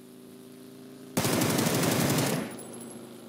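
Rapid automatic gunfire in PUBG on Xbox during a bridge fight, a loud sustained burst of about a second and a half of evenly spaced shots that cuts in abruptly and fades into a lingering echo.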